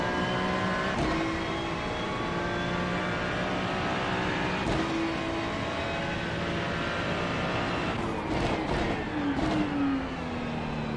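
A GT3 race car powers out of the hairpin at Sebring, its engine note climbing loud and close through repeated upshifts, each gear bringing a rising whine that drops back before building again.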